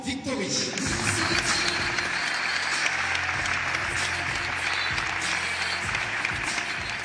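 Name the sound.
audience applause for Miss Saint-Pierre-et-Miquelon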